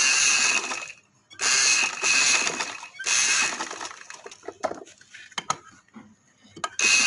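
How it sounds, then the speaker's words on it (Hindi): A sewing machine stitches along the edge of doubled fabric for a women's casual dress sleeve: three loud runs of rapid mechanical whirring separated by short pauses, then scattered clicks and knocks. "नीचे मैं डबल कपड़ा रखते हुए इसके किनारे किनारे पे सिलाई लगा रही हूँ।"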